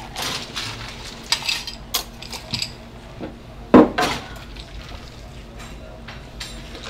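Ice cubes clinking and rattling into a rocks glass behind a bar, several sharp scattered knocks and clinks, one louder clatter midway, with quiet talk in the background.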